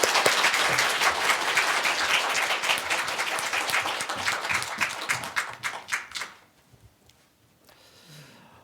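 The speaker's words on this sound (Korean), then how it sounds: "우리 박수로 격려하겠습니다" A church congregation at a Sunday worship service breaks into warm, steady applause for several seconds, then it trails off into near silence.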